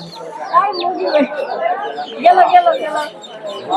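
Chickens clucking amid a busy crowd of chattering voices at the Savar Namabazar pigeon and bird market, close and fairly loud, the clucks blending into the market talk.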